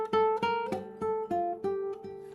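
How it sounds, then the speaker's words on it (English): Guitar melody picked one note at a time with the ring finger, about seven clear plucked notes in a steady rhythm, close and bright with ringing harmonics, with no talking over it. "So here's how melodies sound."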